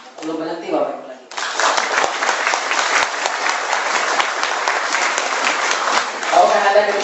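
Loud, dense audience applause at an Indonesian online-business seminar, sustained and even for several seconds, with a voice speaking briefly before it starts and again as it winds down.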